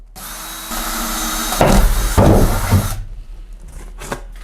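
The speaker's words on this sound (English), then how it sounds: "So I'm gonna drill my hole." A power drill whirs steadily, then bites in with louder grinding bursts as it cuts a hole through a van roof, close up, before stopping abruptly.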